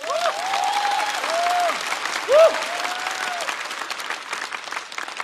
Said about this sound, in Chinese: 再次掌声送给呼兰